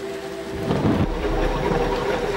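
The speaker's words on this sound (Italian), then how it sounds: "Stasera la pioggia è molto fitta e dopo settimane di siccità il terreno si allaga in pochi minuti." Heavy rain pours steadily after weeks of drought, and a deep roll of thunder swells in and rumbles under the dense, hissing downpour, loud and close, with no voices.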